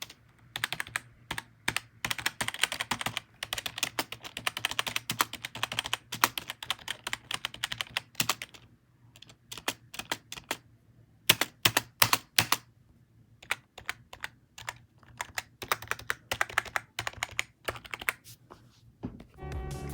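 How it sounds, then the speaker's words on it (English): Typing on a Logitech G213 gaming keyboard, with dense bursts of rapid key presses that pause briefly and then resume in uneven runs, close and clear with no talking. "Here is a sound test of the keyboard."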